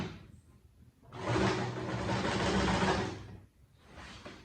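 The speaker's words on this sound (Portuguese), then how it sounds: "Costura com carinho, devagarzinho, para o franzido ficar bem encolhidinho." A sewing machine slowly stitches a gathered sleeve, running in one steady whirring burst of about two seconds between quieter stretches.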